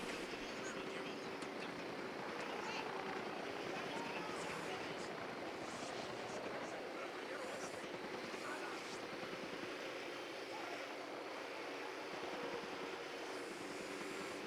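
A helicopter approaches in the Ghost Recon Wildlands video game, its steady rotor and engine drone filling the scene as a continuous, moderately loud wash of noise with no spoken voices.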